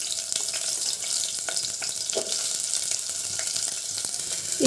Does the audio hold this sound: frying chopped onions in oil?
yes